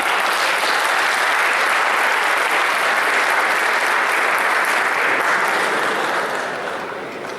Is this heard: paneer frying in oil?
no